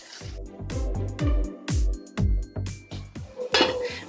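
Fried eggplant being stirred in a cooking pan for achari baingan, with a spoon scraping and knocking against the metal in a steady series of close clinks and thuds, with no talking.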